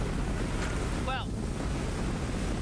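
Wind and choppy waves around a fishing boat on Lake Borgne, a steady loud rush of wind buffeting the microphone with wash of water throughout, and a brief whistle-like bird or squeak in the middle.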